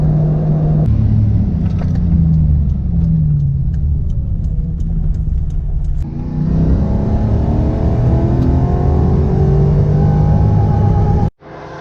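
A 2003 Lexus with a non-VVTi engine heard from inside while driving, a loud steady engine drone holding RPM, with a brief shift in tone around the middle and a sudden drop at the very end.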